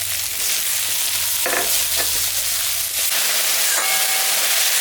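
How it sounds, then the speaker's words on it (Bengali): Eggplant frying in oil after salt and turmeric are added, giving a steady, loud sizzle with a few sharp scraping stirs and no talking. "বেগুনটা ভাজা ভাজা হয়ে গেছে, আমি এখন লবণ আর হলুদ দিয়ে দিলাম।"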